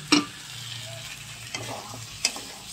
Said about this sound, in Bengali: দেখো, মাংস আমার কষা হচ্ছে